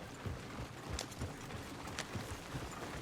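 Horse hooves clip-clopping in the video game Red Dead Redemption 2, a faint, steady rhythm of soft hoof strikes over quiet background ambience.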